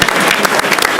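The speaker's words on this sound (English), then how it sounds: "round of applause." A crowd in a school cafeteria at a board of education meeting gives a round of applause, brisk, loud, close clapping for about a second.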